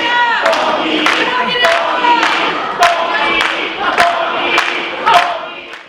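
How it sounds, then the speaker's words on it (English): Wrestling crowd in an arena chanting for a wrestler named Tommy, a loud dense roar of voices with rhythmic rising shouts roughly every second, close and continuous, with no clear speech over it. "the crowd chants for Tommy"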